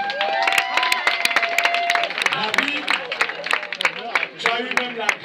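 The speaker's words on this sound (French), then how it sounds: "on applaudit très fort" A ceremony audience breaks into applause, sharp distinct hand claps ringing out unevenly beneath continuous talking and raised voices nearby.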